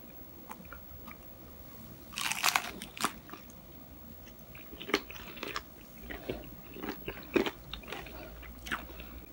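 Crunchy bites and chewing on a fried strawberry barbecue chicken wing garnished with parsley, with a loud crisp crackle early on and then softer, irregular chewing crunches, close up and with no talking.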